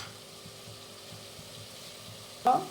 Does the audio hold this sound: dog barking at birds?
no